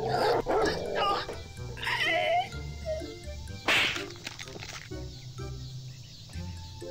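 A dog in the video game Whack Your Neighbour attacks a neighbour, with several loud growls, yelps and snarls in the first seconds, then a sharp hit, trailing into quieter thuds.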